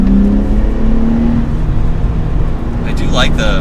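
A manual Nissan Z sports car engine pulls steadily in fourth gear along a mountain road, a loud continuous drone with a held pitch and brief shifts near the end.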